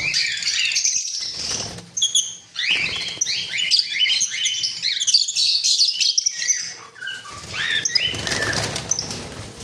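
Caged pet birds for sale, including conures and lovebirds, a busy chorus of shrill chirps, squawks and flapping wings close by, nearly continuous with brief pauses.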